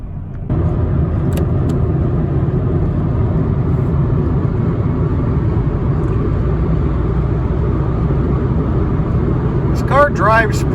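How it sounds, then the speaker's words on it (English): A 1995 Saturn SL2 cruises down the road, its engine and tire noise forming a steady, loud interior rumble that holds throughout, with a few brief higher chirps and squeaks near the end. "And we'll take it for a quick drive here."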